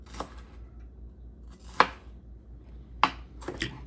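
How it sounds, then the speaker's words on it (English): A knife slices through a pepper on a cutting board, producing a few sharp, separated cuts against the board in a fairly quiet room. "I take the top off, I take the seeds out, and then I slice the pepper"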